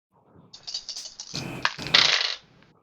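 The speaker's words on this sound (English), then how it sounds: "I only rolled 5 dice out of the 11 I have to roll" Dice are rolled during a tabletop game, a close clattering rattle of several dice tumbling and knocking together for about two seconds, louder bursts near the end, then settling quiet.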